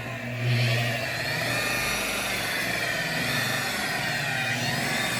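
Rotary buffer polishing a wet-sanded car hood, running slowly at about 1400 RPM; a steady whirring drone holds close and continuous throughout with no talking.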